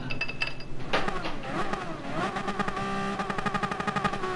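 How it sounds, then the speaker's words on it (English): A race car engine in Gran Turismo Sport revs repeatedly, rising and falling in pitch before settling into a steady, pulsing idle-like drone, loud and close. "Why are you revving the engine?"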